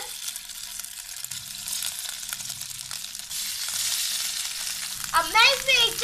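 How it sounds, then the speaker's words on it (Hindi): Mashed potatoes fry in hot ghee in a pan, a steady broad sizzle running throughout with stirring scrapes, and a brief water-like burst near the end. "मैंने पैन में 2 चम्मच घी गर्म होने के लिए रख दिया है। अब हम इसमें मैश किए हुए आलू डाल देंगे"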